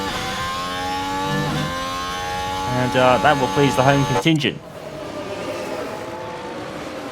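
Race car engines in the F1 Manager 24 game at the Australian Grand Prix, a sustained high whining engine note that rises and wavers before a sharp cut, with a commentator talking over it.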